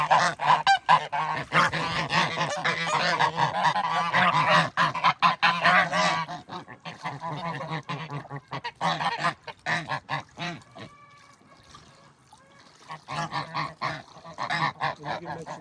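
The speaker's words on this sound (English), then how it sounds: "They recognized the honking." Reunited geese honk loudly and repeatedly up close, with bursts of overlapping calls, brief pauses, and scattered single honks trailing off toward the end.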